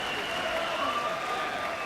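A boxing crowd at a fight night, with travelling Italian fans from Sardinia, bursts into sustained, dense applause and cheering that fills the whole stretch at steady loudness.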